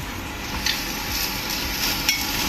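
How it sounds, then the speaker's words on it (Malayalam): Grated coconut and curry leaves dry-roasting in a pan give a soft, steady sizzle with a few light stirring scrapes and clicks, heard alone without speech. "നന്നായിട്ട് ഗോൾഡൻ ബ്രൗൺ ആവുന്ന വരെ നമുക്കൊന്ന് വറുത്തെടുക്കാം"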